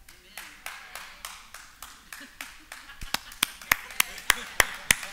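Steady, evenly spaced claps ring out during a church service, growing louder and crisper toward the end while voices talk alongside.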